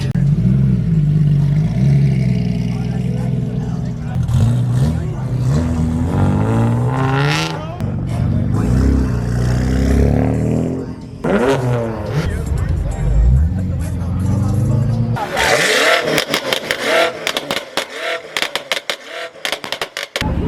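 Cars starting up and revving at a nighttime BMW car meet, including an E92 and an F82, with engines rumbling and roaring over crowd chatter, followed by sharp revs and pops toward the end.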